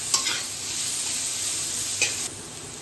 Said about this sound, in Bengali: এগুলো হালকা করেই ভেজে নেব।